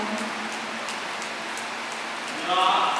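A church congregation imitating rain, a dense patter of many small taps and clicks spread evenly throughout, swelling into a louder rushing burst near the end.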